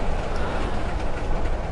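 A train passing in the horror video game Layers of Fear gives a dense, continuous rumble with faint rhythmic clatter, steady and fairly loud for under two seconds, with no voices.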